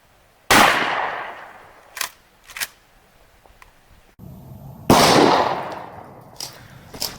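A 12 gauge shotgun fires Estate 00 buckshot from 50 feet outdoors, two loud, sharp blasts a few seconds apart, each followed by a decaying echo and scattered fainter pops.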